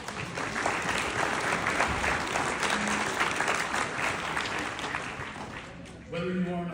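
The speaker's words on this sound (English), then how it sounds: "please, everyone, give yourselves a round of applause" A crowd applauds in a council meeting room, a dense, fairly even clatter of many hands lasting about six seconds before it cuts off and a voice starts talking.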